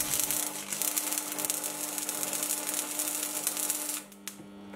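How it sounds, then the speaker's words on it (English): Arc welding a joint on a steel bracket, a loud, continuous close crackling buzz with a steady electrical hum that cuts off abruptly near the end. "I'll quickly weld up the joint"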